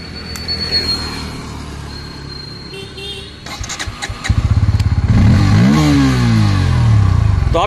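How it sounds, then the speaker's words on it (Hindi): A Bajaj Pulsar N160 motorcycle engine is started: a brief electronic beep and clicks, then the starter cranks and the engine catches into a loud, steady idle with a quick rev close by. "तो आपने देखा दोस्तों बाइक स्टार्ट हो चुका है"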